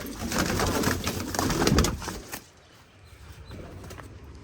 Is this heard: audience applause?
no